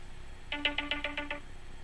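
A telephone rings in a quick burst of about seven evenly spaced electronic trills, clear and fairly close, with no talking over it.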